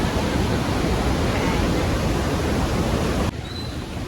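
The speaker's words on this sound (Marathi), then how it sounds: "पाण्याला ओव्हरफ्लो झालेलं आहे पाणी, पाण्यावर दिसतो." Water overflowing at Barvi dam in full monsoon, a loud steady broadband roar of rushing water that fills the whole clip, then drops abruptly to a softer wash near the end.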